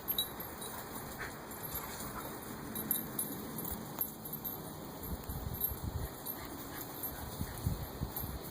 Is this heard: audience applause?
no